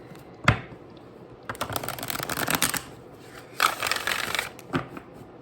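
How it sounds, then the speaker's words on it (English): Tarot cards being shuffled close up in several crisp riffling bursts with brief pauses between, no voices. "Shuffle these a little bit more."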